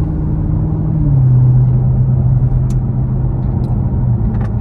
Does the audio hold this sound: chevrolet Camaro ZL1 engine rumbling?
yes